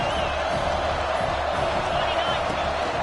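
Dense, steady roar of a college football stadium crowd rising during a red zone defensive stand, loud and continuous throughout with no distinct voices standing out.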